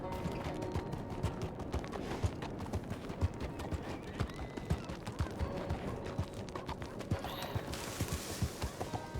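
Horse hooves clip-clop in the video game Red Dead Redemption, a steady rhythmic run of close hoof strikes on hard ground lasting throughout, with a brief neigh-like sound near the end.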